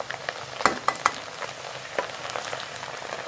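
Chana dal frying in hot oil over a high flame, a bright continuous sizzle with a few sharp spatters and stirring scrapes in the first second, settling into steady crackle.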